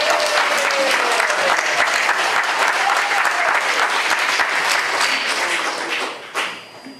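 Audience applause at a Democratic candidate legislative forum held by the Guam Women's Chamber of Commerce, a steady, dense clapping from a full room that fades out near the end.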